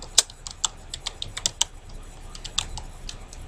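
Typing on a computer keyboard, a series of sharp, irregular key clicks close by in a quiet room, with brief pauses between short bursts.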